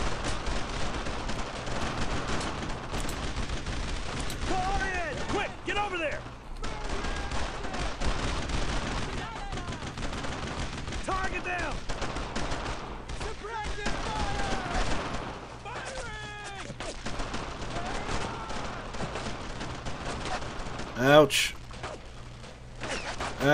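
Gunfire in the World War II shooter Brothers in Arms: Road to Hill 30 crackles in dense, repeated bursts of rifle and machine-gun fire, with a louder blast near the end and soldiers shouting throughout.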